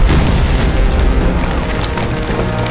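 A bomb explodes in a war film scene, a loud, booming blast that opens the clip and then trails off into a rumbling, crackling decay lasting a few seconds, with no speech.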